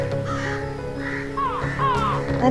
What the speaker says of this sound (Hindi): ये इतने सारे कौवे कहाँ से आ गए?